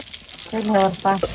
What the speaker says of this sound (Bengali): ওই যে বেগুনটা ভাজি করছে